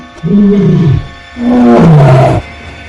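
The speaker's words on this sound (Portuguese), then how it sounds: "aquele grande canzarrão negro aparece na margem do rio e dá um grande urro" A huge black dog in a folk tale gives a great roar by a riverbank, delivered as two loud, long, deep bellowing roars close up, each rising and then falling away.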